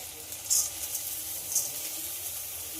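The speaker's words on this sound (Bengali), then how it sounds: "এবার এতে ধুয়ে রাখা মসুর ডালটা দিয়ে দেব।" Washed red lentils tipped into a pan of frying spices with tomato, a steady soft sizzle with two brief brighter splashes as they land, close and fairly quiet, no talking.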